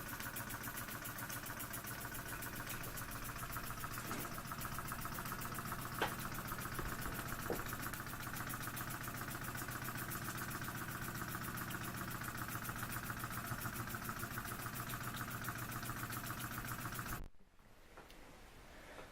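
A scratch-built twin cylinder model steam engine runs quietly on steam, giving a steady, even mechanical hum with a faint regular beat, close by and alone, before it cuts off abruptly near the end.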